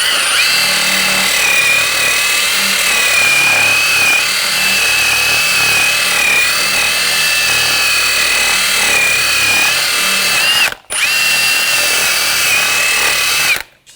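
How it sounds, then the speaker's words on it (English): Wire brush scrubbing corrosion and rust off the rear hub surface of a 2006-2010 BMW 550i, a loud, steady abrasive rasp held for about ten seconds, with a brief break near the end. "We're going to sand down the hub surface. I'm just going to use a wire brush."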